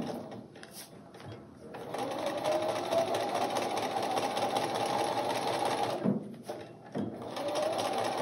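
A domestic sewing machine runs a long curved seam through a bridal bouquet border of bias-cut fabric on paper, humming steadily and closely for several seconds after a brief start and then stopping in short pauses.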